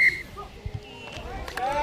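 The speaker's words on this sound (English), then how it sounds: "Oh dear, whistle goes, knocked on." A referee blows a short, sharp whistle at the start of a schools rugby match, followed by distant crowd noise and commentary.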